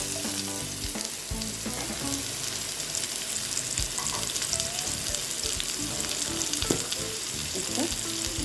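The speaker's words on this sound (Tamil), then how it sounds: "ஃப்ரை ஆனோன்னா நம்ம வந்து நல்லா ஃப்ரெஷ்ஷான மஷ்ரூமை ஆட் பண்ணிக்கலாம். நல்லா சாட்டே பண்ணிக்கோங்க." Fresh mushrooms sauté in butter and garlic in a pan, giving a steady, close sizzle with scraping stirs and small pops that carry on throughout without pause.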